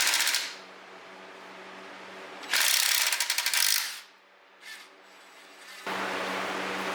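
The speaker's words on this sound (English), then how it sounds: "You want to go ahead and remove the bolt in a sequential order." Bolts being backed out of the intake manifold on a Ford Focus RS with a ratchet: several bursts of quick, close clicking pawl ratcheting separated by quieter gaps, with no talking.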